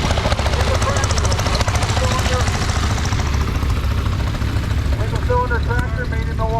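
Ready power cultivator tractor engine runs at the Liberty Grove tractor show in Ellison Bay, Wisconsin, a steady loud chugging drone near at hand with a voice talking over it.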